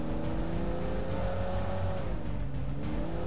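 A car engine drives steadily in the PUBG Mobile game, a continuous mid-level hum with slight shifts in pitch, heard alone with no talking.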